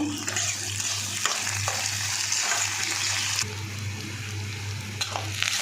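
Onion sautéing with chana dal, urad dal and curry leaves in a pan, a loud continuous sizzle with stirring scrapes and a few clicks over a low steady hum, no talking.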